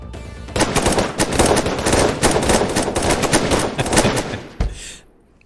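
Loud, sustained rapid gunfire pours out in a dense unbroken burst for several seconds, ends with one final blast, and then fades into quiet.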